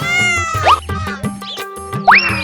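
A cartoon cat lets out two loud, close meows, each rising sharply in pitch, about a second and a half apart, over a busy backdrop of music-like tones.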